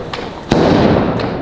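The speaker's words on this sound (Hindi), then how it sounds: "सबसे खतरनाक पटाखा होता है ये रॉकेट" A Diwali firework rocket launches with a sudden sharp burst followed by a loud, sustained rushing hiss close by.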